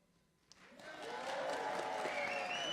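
Audience applause at a 2025 budget town hall meeting in Baltimore County, starting quietly and swelling into steady, sustained clapping from a moderate-sized crowd.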